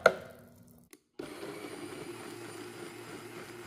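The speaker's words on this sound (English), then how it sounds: "add it into the blender cup to puree the salsa" A kitchen blender purees a spicy salsa with a ladle of broth. After a short knock and a brief pause, it runs as a steady, moderately loud whir that holds without change.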